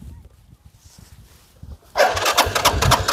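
A motorcycle self-starter cranks without the engine catching: a low, quiet rumble gives way partway through to a loud, close, rough mechanical churning that continues to the end.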